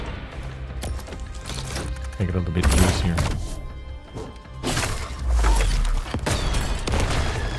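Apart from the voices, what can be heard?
cannon firing in the video game As We Descend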